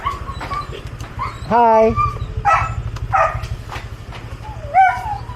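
Panda, a pet dog, whimpers and yelps in high, wavering cries close by, with sharp barks among them, while a person briefly speaks a greeting.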